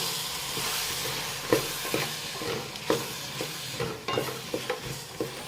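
Fish curry ingredients with raw mango sizzle steadily in a large pan while a utensil scrapes and stirs in irregular taps, close and fairly quiet, with no voices.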